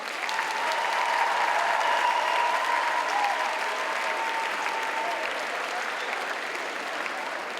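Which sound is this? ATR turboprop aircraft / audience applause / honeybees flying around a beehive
audience applause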